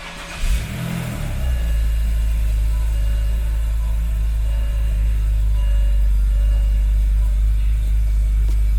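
A BMW E90 engine cranks and catches with a brief rev, then settles into a steady, loud, low idle that runs to the end.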